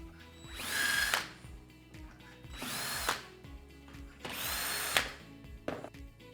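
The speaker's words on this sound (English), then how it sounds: "So I can now drill the 5mm pilot holes that will help guide the plates into place." A power drill bores 5mm pilot holes in three loud bursts, each starting with a rising whine and ending in a sharp stop, with softer handling knocks between them during a Blum Revego pocket door installation.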